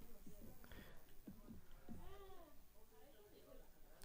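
A cat in a horror video game gives a few short, rising meows amid a voice talking over the game sounds.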